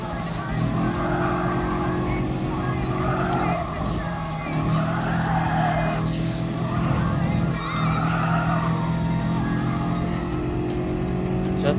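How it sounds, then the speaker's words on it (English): Racing cars in Gran Turismo Sport, a 1991 Honda Beat kei car chased by a 2015 Toyota GT, give a steady, loud engine drone with rising and falling revs and faint tire noise throughout. "looks like our good old friend, the Toyota A6 GT 2015 is trying to catch up to the 1991 Honda Beat"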